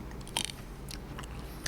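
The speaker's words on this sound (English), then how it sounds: "You hear that little crunch?" A crisp crunch as teeth bite into a frozen ice cream novelty, close to the mic: one sharp bite with a short crackly follow-up, then a second smaller crunch near the end, otherwise quiet.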